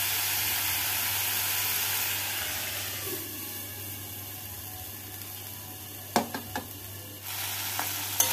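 Boneless chicken pieces being sautéed with spices in a pan give off a soft, even sizzle, broken later by a few sharp scraping and stirring knocks; no one speaks.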